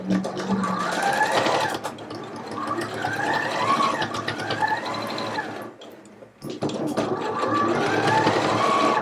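Sewing machine running along a jacket shoulder seam with a half-inch allowance, reinforcing the ends: a close, steady mechanical whirr of stitching, a brief pause, then the machine starts up again.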